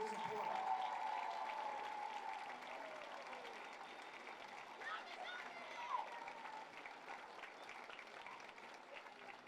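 Crowd at a boys' basketball game applauding honored guests, steady clapping from many hands filling a gym, gradually easing off over several seconds with a few louder claps near the end.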